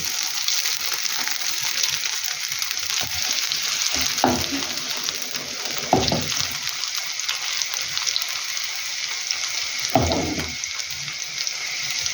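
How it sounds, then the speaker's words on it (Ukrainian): Potato pancakes (deruny) fry in oil in a pan with a constant close crackling sizzle, broken by a few louder spatters and scraping turns. "Бачу, що і з другої сторони гарненько присмажилися."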